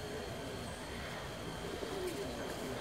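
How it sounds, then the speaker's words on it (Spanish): Pigeon cooing on a rooftop, soft low coos that are fairly distant under faint ambient outdoor noise, with a hint of voices in the background. "La paloma está en el otro techo aquí"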